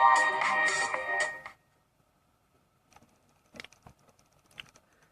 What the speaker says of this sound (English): let's see how speakers sound on HTC One